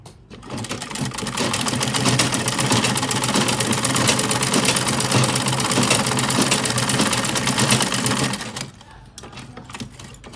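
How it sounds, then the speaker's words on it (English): A sewing machine runs steadily while stitching a child's pleated dress, a close, continuous rapid whirring for about eight seconds before stopping, with no talking. "I'm going to go ahead and sew."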